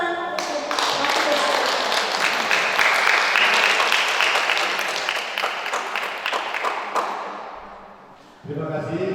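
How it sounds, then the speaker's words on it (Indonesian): Loud, sustained applause from an audience at a scripture storytelling competition fills the room, a dense patter of many hands that builds and then tapers away near the end. "Dan tepuk tangan untuk"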